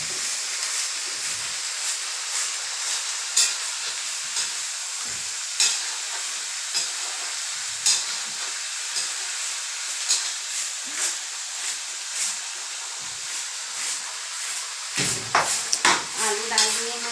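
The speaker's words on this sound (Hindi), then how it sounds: "आलू डाल दिए हैं। अब इसको हम कुछ देर तक लाल करेंगे" Potatoes fry in a hot pan for a chana dish, giving a constant close hiss and sizzle with periodic spoon scrapes, and a louder clatter of stirring near the end, with no talking.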